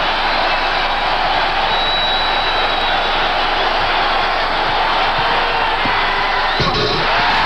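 A packed arena crowd at the 1988 NBA Slam Dunk Contest roars after a dunk, a dense, loud, sustained wall of cheering and whooping that barely varies in level throughout.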